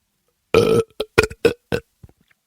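A long, wet belch followed by a few shorter gurgling burps, then small trailing croaks fading out, close and loud with no talking.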